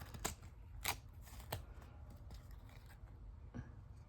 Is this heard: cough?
no